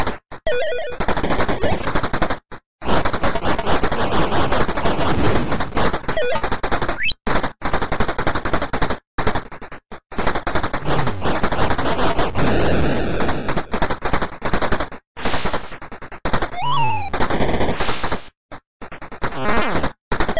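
Loud, rapid gunfire from a light gun video game pours out in long, dense bursts with brief silent gaps between them, mixed with game effects and sweeping electronic tones.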